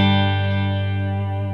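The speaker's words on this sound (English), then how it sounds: "I have just a touch of reverb on it in my amp, like we talked about, and I've got a little small amount of a tape echo out of a delay pedal" A clean-channel electric guitar chord rings out, colored by a touch of amp reverb and a small amount of tape echo from a delay pedal, sustaining loud and smooth and slowly decaying.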